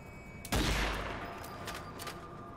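Gunfire from Zombie Army 4: Dead of War opens with a loud, sharp burst of shots that trails into a lingering rumble, followed by a few fainter scattered shots.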